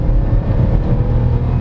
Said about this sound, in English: You can hear the engine a lot